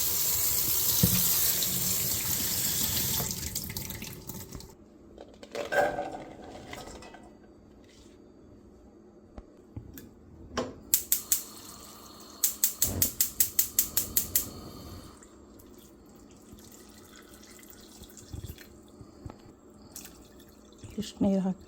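Kidney beans for rajma are rinsed under a running kitchen tap, with a strong gush of water for the first few seconds, then scattered drips, splashes and clinks of a vessel in the sink.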